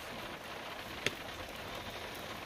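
Steady rain falling outdoors on a morning, a dense even patter with one brief sharp drip or tap, heard alone without voices.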